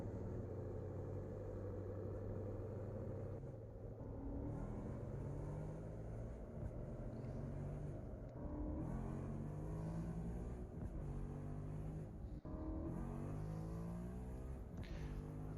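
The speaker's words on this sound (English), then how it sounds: "the base vehicle sounding quite loud, and then sounds like a recording of something like a supercar accelerating played over the background" A modded vehicle in Farming Simulator 22 drones with a loud, continuous engine roar, layered with a supercar-like accelerating whine that rises and shifts throughout, with no talking.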